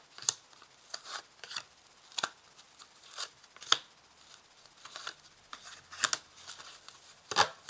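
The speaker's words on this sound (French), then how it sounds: "Je place 5 cartes." Tarot cards laid out one by one on a table for a reading, each placement a soft, brief papery slap or swish, irregularly spaced and fairly quiet, with no talk over them.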